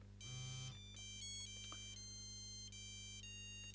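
A Sony Ericsson T68i mobile phone plays a bright electronic ringtone. A series of clear, beeping tonal notes in a quick melodic pattern comes through alone over a faint low hum.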